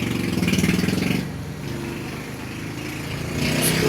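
A new motorcycle's engine runs at a steady, buzzing idle, loud and close at first, then dropping quieter before swelling again.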